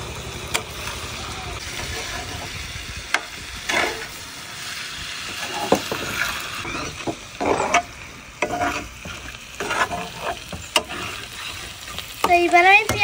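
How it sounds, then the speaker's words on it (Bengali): Bitter gourd fry stirred with salt in a pan, a low sizzle with irregular scraping and stirring strokes, close by, growing busier and louder toward the end, with some voice in the background. "পরিমাণ মতো লবণ দিয়ে দিচ্ছি। সুন্দর মতো নেড়ে নিচ্ছি।"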